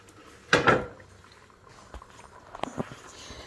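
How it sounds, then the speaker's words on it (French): A cooking pot holding bean sauce is shifted and stirred, with a sharp metallic scrape and clatter near the start and a few lighter knocks later, close and otherwise quiet. "On va commencer juste à mélanger avec, en bougeant notre marmite."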